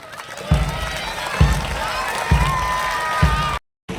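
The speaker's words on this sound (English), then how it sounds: "Let's have a big round of applause." Crowd applauding and cheering at a 25th ordination anniversary celebration, with steady clapping and voices, and deep regular drum beats from a band sounding through it.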